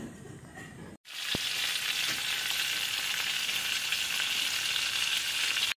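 Speared fish sizzles steadily in hot oil in a pan, a loud, even hiss that starts abruptly after a short burst of background noise and continues without talk.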